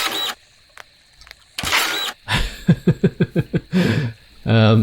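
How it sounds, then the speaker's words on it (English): Soil printer machine in the video game Dinkum, a series of rapid mechanical pulses in quick succession like a printer head, framed by short bursts of noise and a spoken voice. "So it actually sounds like a printer as well."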